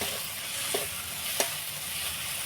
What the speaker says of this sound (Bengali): এখন নেড়ে নেব।